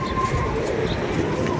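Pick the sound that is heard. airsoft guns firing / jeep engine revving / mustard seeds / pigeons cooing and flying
pigeons cooing and flying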